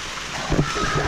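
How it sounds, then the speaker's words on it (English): Steady outdoor rain patters down in the wind, a broad hissing wash with low gusty rumble and a few louder splashy bursts, continuous and fairly close. "this is really not a heavy rain"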